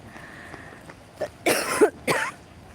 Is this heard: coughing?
yes